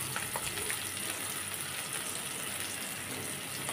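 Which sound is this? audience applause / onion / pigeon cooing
onion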